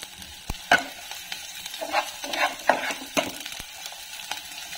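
Onion and chilli fry in ghee in a pan, a soft steady sizzle broken by a few scraping stirring strokes at close range.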